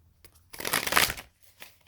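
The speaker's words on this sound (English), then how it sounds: "Let me give a few more shuffles here." Tarot cards are shuffled in one close riffling burst lasting about a second, with faint soft taps before and after.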